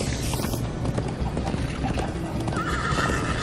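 A horse gallops in Minecraft: Story Mode with rapid, loud clip-clop hoofbeats and a whinny, set against the game's rushing chase ambience.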